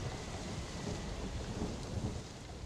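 Steady rain and rumbling thunder outside an inn in the tabletop game Vaesen, forming a dense, continuous storm ambience with low rolls beneath constant hiss and no voices.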